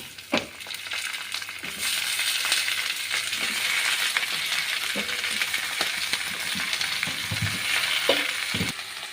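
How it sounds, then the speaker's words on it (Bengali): Malabar spinach tossed into browned onions frying in a pan gives a steady sizzle, with scattered stirring clatter and a few sharp utensil knocks standing out near the microphone. "পেঁয়াজটা লাল হয়ে গেছে এবার শাকটা আমি দিয়ে দিব"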